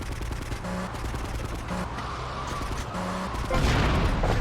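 Cars exploding in a driving video game: a run of sharp, crackling blasts and bangs under a steady engine drone, ending in a louder, denser burst near the end.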